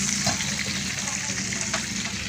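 A pot of about half a kilogram of tomatoes boils during cooking, giving a steady, close bubbling and sizzling hiss that continues evenly without talk.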